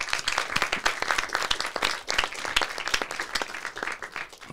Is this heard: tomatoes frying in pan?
no